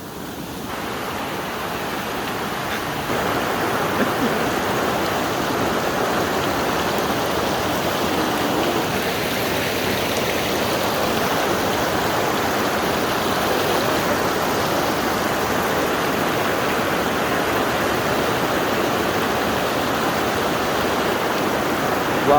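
A mountain river crossed on a beginner-friendly hike in the Philippines rushes steadily, with broad, loud, continuous water noise that swells slightly after the first few seconds and holds without a break.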